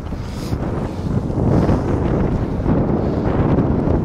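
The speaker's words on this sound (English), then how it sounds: "We've got some pretty strong winds today" Strong wind buffets a Radar kayak out on open water, a loud, steady roar of wind rush against the microphone that swells slightly in gusts, with no talking.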